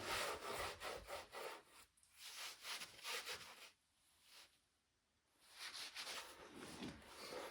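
A hand saw cuts through wooden stair treads with rhythmic rasping back-and-forth strokes, close and quiet, pausing for about a second midway before the strokes resume.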